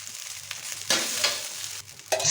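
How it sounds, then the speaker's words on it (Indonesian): Scrambled egg and rice stir-fried together in a pan for fried rice: steady sizzling, broken by a few sharp scraping spatula strokes. No voices. "Nah sekarang kita masukkan telurnya, kemudian kita orak-arik."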